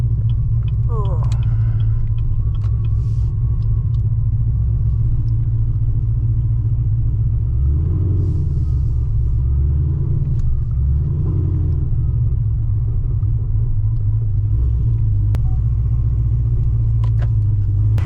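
A Chevrolet Camaro ZL1 with a loud exhaust on an evening drive, heard from inside as a deep, constant engine and exhaust rumble that swells and eases with the throttle, dominating throughout.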